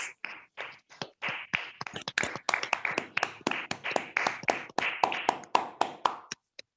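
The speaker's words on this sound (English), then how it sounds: "Can you please unmute yourself and give him a big round of applause?" Claps from online meeting participants at a Toastmasters club session, sparse at first and then a steady run of distinct, fairly close hand claps with small gaps between them, ending in a last isolated clap.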